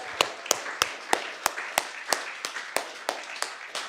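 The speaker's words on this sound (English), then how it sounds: "Keep on clapping till he gets here" Steady, evenly spaced claps ring out about three times a second at a poetry read-out event, crisp and sharp like a small audience clapping in unison while waiting for a performer.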